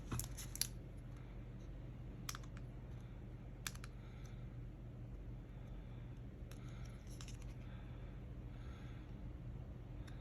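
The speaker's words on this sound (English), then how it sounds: "I can just cut this with some scissors." Sharp, irregular snips and clicks from scissors cutting paper, a few bursts spaced apart over a steady low background hum.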